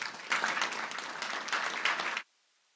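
Clapping at a town council meeting, a brief, dense round of hand claps from the seated audience that stops abruptly after about two seconds.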